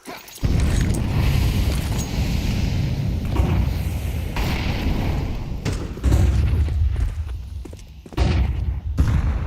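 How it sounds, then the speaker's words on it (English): Gunfire and heavy booming blasts from Counter-Strike 2 during a pro match, loud thumps and bursts recurring through the clip over a continuous noisy bed. "They hear Techno firing off back in the cave."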